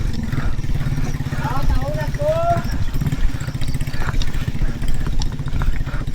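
A motorcycle engine runs with a steady low throb close by, under someone talking during a solo ride through grassland in Murcia.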